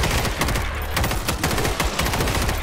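Assault shotgun firing in World War Z, a rapid string of loud, close blasts in an irregular burst with dense overlapping gunfire and no talk.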